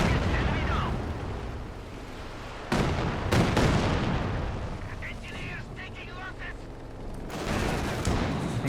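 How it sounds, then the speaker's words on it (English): Battlefield sounds in a World War II strategy game: incendiary artillery shells and mortar rounds land in heavy booming blasts and rumbling bursts over constant low battle noise, with faint chatter in the background. "Here comes the incendiary artillery on the stolen Zis and the mortar."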